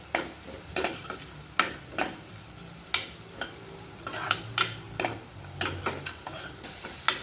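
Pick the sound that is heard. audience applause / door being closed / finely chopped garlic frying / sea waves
finely chopped garlic frying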